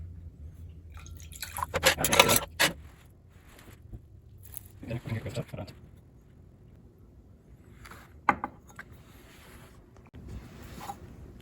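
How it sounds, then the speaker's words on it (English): Rinse liquid decanted off copper in a chemistry lab, intermittent pouring and splashing bursts, close and moderate, with a person talking between them. "I'm going to decant another time. One last rinse."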